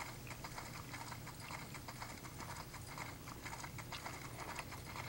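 Horse hooves clip-clop in a steady, even rhythm throughout the Western video game Six-Guns, with a busy mechanical, gear-like texture running underneath and no talk.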